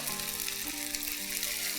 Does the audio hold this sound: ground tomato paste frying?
yes